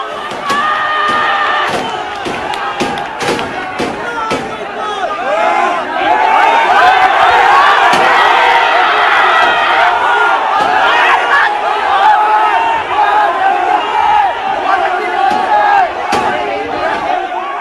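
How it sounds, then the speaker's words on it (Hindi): A large, angry crowd of hundreds of people is gathered outside a building in Hyderabad, intent on attacking a young man. A dense, continuous roar of many shouting voices rises and swells, with a few sharp thuds and bangs early on. "ये जो भीड़ आप देख रहे हैं, अशोक नाम के नौजवान को मारने के लिए इकट्ठा हुई थी।"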